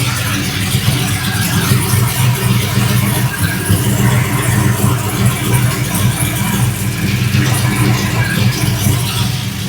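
A 5.3 LS V8 swapped into a Dodge Dakota idles steadily, a loud, continuous low rumble with a smooth even tone and no revving.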